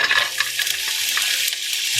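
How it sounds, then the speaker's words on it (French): Onions sizzle and crackle steadily in hot olive oil in a large saucepan, with a stirring scrape now and then, close up and continuous. "je vais mettre de l'huile d'olive dans le fond d'une grande casserole. On va venir rajouter les oignons."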